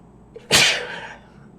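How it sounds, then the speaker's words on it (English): A single sharp human sneeze, close and loud, preceded by a short inhale and trailing off into quiet. "pardon me, I'm about to sneeze."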